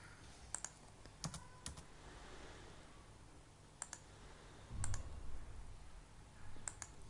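Faint, sparse clicks of a computer mouse while working in Microsoft Word, a handful of sharp, quiet taps spaced irregularly over a low room hiss, with no speech.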